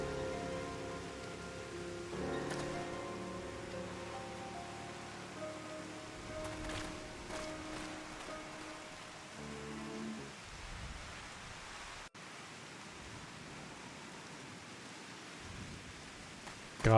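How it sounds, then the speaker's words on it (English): Steady, heavy video game downpour hissing broadly throughout, with some tonal background sounds early on and occasional brief knocks over the constant rain. "all of this happening, like, in the middle of this fucking downpour"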